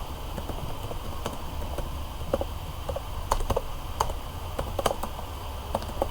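Someone types a title on a computer keyboard, giving irregular light clicking keystrokes over a steady background hiss, close and moderately quiet throughout.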